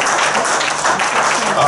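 Gospel concert crowd in Milton Keynes applauding and cheering the Lord, a dense steady wash of clapping and voices with no pause.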